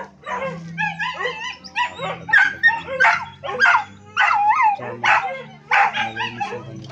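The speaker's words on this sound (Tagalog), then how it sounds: "Dami aso dito na." Several dogs bark and yip in a busy cluster at a rural family gathering for an 81st birthday, with sharp repeated barks close by over a low rumble of background noise.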